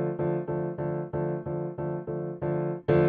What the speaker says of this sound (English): that's the noise of the hammers on the piano